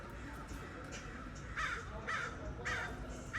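Crows caw outdoors near a balcony, several harsh calls spaced about a second apart over steady background ambience, with a voice talking faintly underneath.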